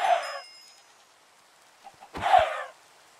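Chickens are struck and killed in the modded Minecraft pack All The Mods 9: a short squawking hurt cry, then a quiet gap, then a brief thump and a second squawk, loud and close.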